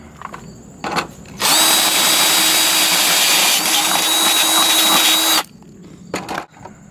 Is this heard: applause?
no